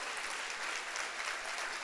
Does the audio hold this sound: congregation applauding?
yes